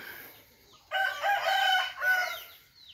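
A rooster crows once loudly and close by on a farm in the early morning, one long harmonic cock-a-doodle-doo of about a second and a half, with quieter chicken sounds before it and no voices.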